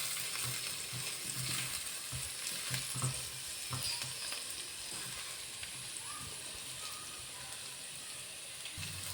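Curry leaves fry in hot oil in a pan, a soft, steady sizzle with crackling pops and occasional stirring scrapes, close but fairly quiet, with no talking.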